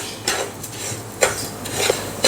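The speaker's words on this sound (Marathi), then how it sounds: "एक दोन ते तीन मिनिटे मीडियम गॅसवरती ही वरई किंवा ही भगर मी छान भाजून घेतली" Barnyard millet roasts in ghee in a pan over a medium flame, heard as scraping stirs and spoon clinks against metal in a few distinct bursts over a faint background hiss, close by and without speech.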